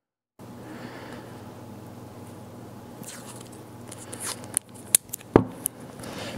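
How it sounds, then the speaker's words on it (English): Painter's tape is pulled, torn and pressed onto an acoustic guitar during pickup installation, with a quiet hum and then several sharp close rips and crinkles toward the end. "So what I'm gonna use is some painter's tape. I'm gonna do like a little piece there."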